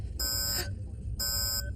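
Two short electronic tones from a detector, each held about half a second with a gap between, clear and steady over a low rumbling background.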